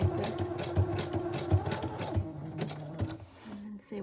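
Domestic sewing machine running a zigzag stitch along the edge of a junk journal paper page, a steady rapid mechanical chatter with regular thumps, fairly close and moderate in level.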